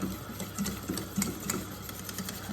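A whisk beats a milk and flour sauce for lasagna in a pan, giving a quick, steady rhythm of soft scraping taps that repeat closely and evenly throughout, at moderate loudness with no talking.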